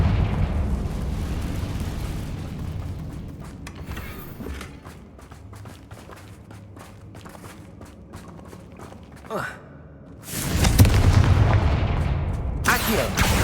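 A Confringo fire spell explodes in the video game Hogwarts Legacy, a loud burst of fiery blast noise arriving near the end after quieter footsteps and clattering, with a second sharp hit just before the close.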